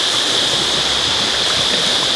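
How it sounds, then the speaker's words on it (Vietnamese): Mountain stream water rushes steadily near Thác Bìm Bịp waterfall in Buôn Ma Thuột. The flow is close, loud and continuous, with a bright hiss throughout and no voices. "Đây, nước suối."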